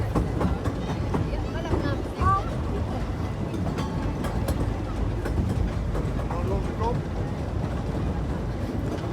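A small theme park train at Efteling rolls along with steady rumbling and rhythmic clacking, surrounded by a busy outdoor crowd murmur, continuous throughout.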